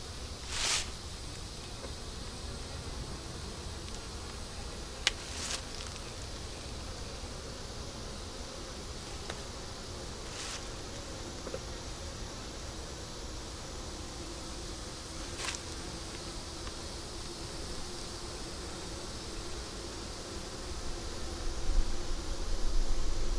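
Honey bees fill an eight-frame, honey-bound hive with a continuous soft buzzing hum, broken by a few brief louder whines as single bees fly close, swelling slightly toward the end.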